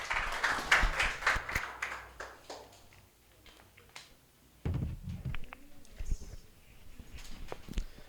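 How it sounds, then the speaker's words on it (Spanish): Congregation clapping in a church service, a burst of loud applause in the first seconds that fades, followed by scattered taps and thumps with faint voices. "Denle un fuerte aplauso a nuestro Dios."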